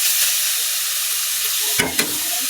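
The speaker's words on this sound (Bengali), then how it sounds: "এখন একটা বাটির মধ্যে শাক আমি ভাজবো" Dhenki shak, a fern green, frying in a pan gives a steady close hiss and sizzle, with a brief burst of clatter and crackle near the end.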